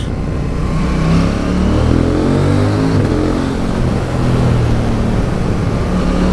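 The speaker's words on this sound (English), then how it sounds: "Oh, listen to that exhaust. Standard, and it sounds that good." A KTM 790 Duke motorcycle engine with stock exhaust and cross-plane firing order revs loudly and steadily nearby, its deep exhaust note rising and falling with the throttle.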